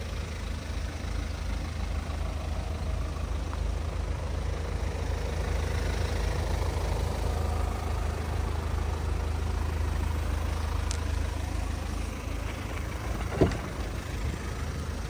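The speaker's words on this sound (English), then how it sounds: "Another Hyundai in a nice, beautiful color, which is 2-liter diesel automatic." A 2-litre diesel Hyundai Tucson automatic with four-wheel drive sits idling, its steady low rumble running unbroken and even throughout, with one brief faint knock near the end.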